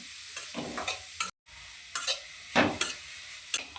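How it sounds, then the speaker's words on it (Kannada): Grated carrot fries in ghee while a spoon stirs it, giving a steady close sizzle with a fresh scrape of the pan every second or so and a brief break in the middle. "ಇವಾಗ ತುರಿದಿರುವಂಥ ಕ್ಯಾರೆಟ್ನ ಹಾಕ್ಕೊಂಡು ಫ್ರೈ ಮಾಡ್ಕೊಳ್ಳೋಣ. ಹಾಗೆ ತುಪ್ಪದಾಗ ಒಂದು ಸ್ವಲ್ಪ ಹುರ್ಕೊಳ್ಳೋಣ"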